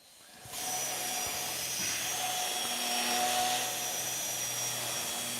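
Carbide cutter grinding into metal while a 1/2-drive flex head ratchet is built, a steady high-pitched whine that starts abruptly and holds at constant loudness, no talk.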